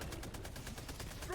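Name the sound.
sentry turret firing, from a video game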